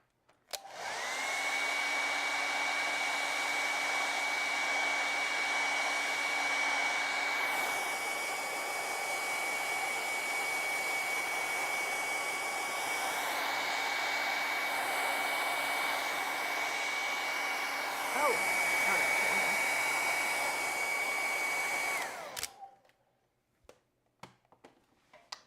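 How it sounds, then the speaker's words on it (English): A hair dryer blows steadily on wet acrylic paint, a loud continuous whirring with a high tonal whine, its pitch shifting slightly as it is moved, running for about twenty seconds before cutting off to near silence. "Okay, let's go ahead and dry that."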